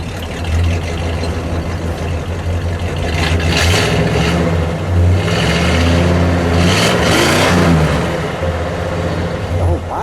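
A 1960 Chrysler 300F two-door hardtop's engine is revved hard up close, its loud, rough idle swelling twice into roaring blips before settling back.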